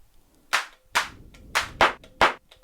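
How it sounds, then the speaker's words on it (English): Lindrum clap sample triggered on an Elektron Analog Rytm drum machine: five sharp, dry hand-clap hits at uneven intervals, crisp and close, with nothing else sounding between them. "I believe that is the Lindrum clap."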